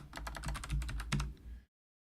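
Rapid, steady keystrokes on a computer keyboard during programming work, a dense close-up clatter that runs for about a second and a half and then stops dead into silence.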